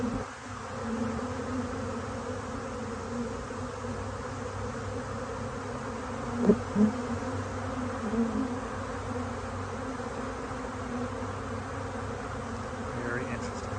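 A honey bee swarm buzzes through the air in a continuous dense hum, with occasional individual bees zipping close past the microphone amid the steady drone.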